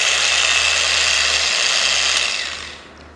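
A Bosch GWS angle grinder runs at low speed with a steady high whine and a low hum close by, then spins down and fades near the end.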